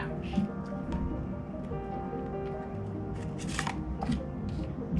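Tarot cards are shuffled in quick soft riffles and flicks close to the microphone, with short papery bursts over a faint background hum and someone speaking Thai.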